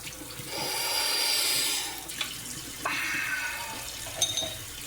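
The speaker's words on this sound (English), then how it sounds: "I'm trying to clean a red spatula at the moment." Water running into a sink while a red spatula is being washed, a steady splashing stream for about two seconds, then short bursts of splashing and rinsing knocks, close and moderately quiet.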